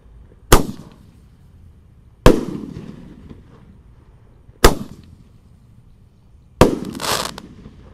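Four sharp, loud Roman candle shots fire one by one at uneven intervals in the open air, each cracking bang fading into a short crackling tail on a festive Lebaran night.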